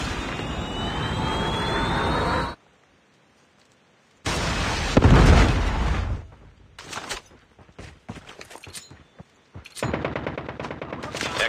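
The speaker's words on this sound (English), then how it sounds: "Friendly Predator missile inbound." Explosions and gunfire from a Call of Duty mobile team deathmatch with an incoming Predator missile strike: a roaring whoosh, sudden silence, then a loud blast followed by scattered sharp shots and bursts.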